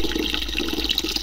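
Water flows steadily at a village spring in Kenya, a continuous close splashing and gurgling stream with no voices over it.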